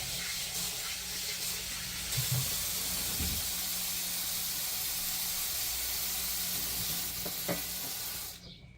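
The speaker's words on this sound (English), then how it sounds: "let me start by washing off my hands" Hands being washed under a running kitchen tap, a steady broad hiss of flowing water with small splashes and knocks, close and constant for several seconds before cutting off at the end.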